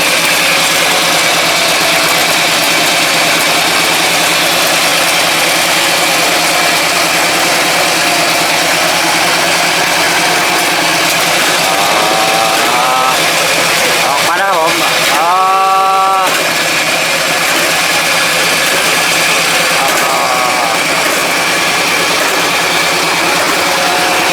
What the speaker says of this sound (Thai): เหมือนรถไถเลยดิ